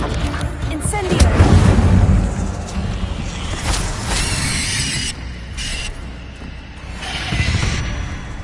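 An Incendio fire spell cast in Hogwarts Legacy: a loud whooshing burst of flame with a deep boom that swells and fades, then a second rumbling surge, mixed with faint mechanical creaks.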